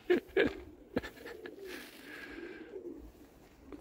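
Pigeons cooing outdoors in a loft yard, a few low throaty coos close by with some soft flutters and a quieter murmur in between.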